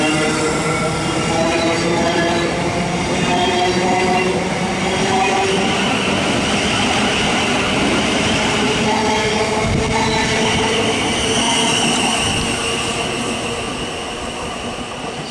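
A Thameslink Class 700 electric train hums and rumbles steadily as it pulls away from Preston Park station, with faint wheel squeal and rising motor tones, loud and close.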